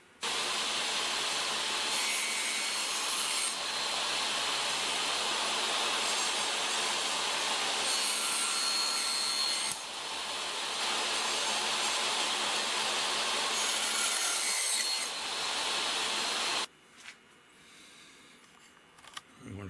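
Table saw cutting through a 2 inch wood block on a mini sled, a loud sustained whining cut with brief pulses as the blade bites, ending abruptly as the saw winds down.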